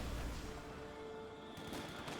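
Katyusha rocket artillery firing in Company of Heroes 2, a faint, distant rumbling barrage with a dull boom near the end, low in level with no talk over it.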